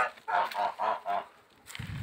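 Domestic geese in a yard give four loud, nasal honks in quick succession, close by, followed by a quieter rustling pause.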